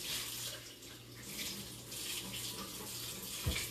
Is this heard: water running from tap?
yes